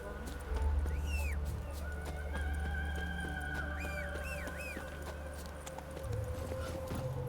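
A horse in the video game The Witcher 3 neighs and whinnies repeatedly over steady galloping hoofbeats, with game music and ambience underneath.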